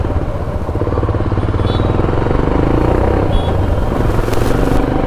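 A 2021 Royal Enfield Himalayan BS6 motorcycle engine idles close by with a steady, loud, low thumping rhythm and some mechanical clatter, running on without throttle.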